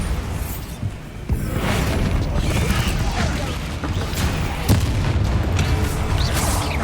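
Bombarda spell blasts in Hogwarts Legacy land as heavy booming explosions with rumbling debris, one sharp hit early and another midway, set against a constant game soundscape.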